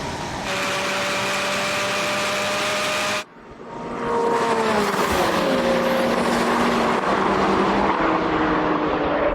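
A Porsche GT4 RS and rival sports cars launch hard in a drag race, a loud engine roar climbing steadily in pitch, then a brief cut at a gear change before the note surges again and keeps rising, with no talk.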